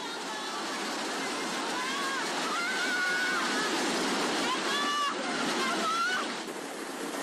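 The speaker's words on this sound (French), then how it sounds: "Quand soudain, une masse d'eau et de débris déferle dans la ville d'Aceh" A tsunami surge of water and debris floods through a city in Aceh, a continuous loud rushing roar with faint distant cries and voices rising over the churning water.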